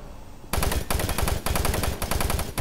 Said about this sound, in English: The knockback on his shotgun is crazy.